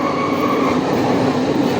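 An elevated suburban train in Chennai runs steadily with a loud, continuous rumble and rail noise throughout, heard from on board with no talk.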